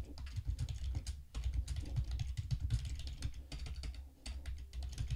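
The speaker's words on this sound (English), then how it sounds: "I'm going to type it one more time." Rapid, steady typing on a computer keyboard, close and fairly loud, with dense clicking keystrokes running throughout and only brief pauses.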